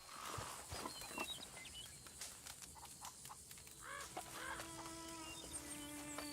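Chickens clucking in the Red Dead Redemption 2 video game, a few soft farmyard clucks and calls over a steady ambient outdoor bed, moderately close with no talking.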